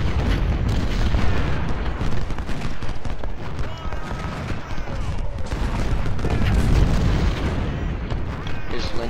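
Civil War artillery and musket volleys in Ultimate General: Civil War's Battle of Shiloh rumble continuously, a dense roar of booms and crackling fire with no clear gaps between shots.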